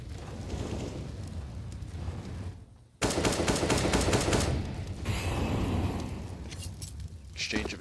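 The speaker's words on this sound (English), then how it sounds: "Exchange of incendiaries, frag comes over" Incendiary grenades and a frag grenade trade back and forth in a professional Counter-Strike: Global Offensive match, NAVI versus Vitality at PGL RMR 2022. Dense bursts of fire and blasts crackle loudly, with a sharp hit near the midpoint, under steady commentator talk.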